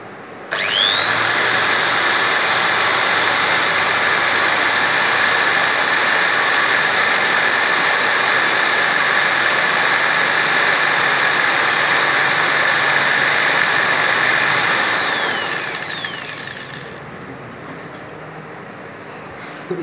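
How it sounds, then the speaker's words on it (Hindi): A small drill bores holes in a PCB board at home, running as a loud, steady high whine for about fifteen seconds before spinning down to a quieter hum, with no talk. "तो इस तरह से ड्रिलिंग करना है"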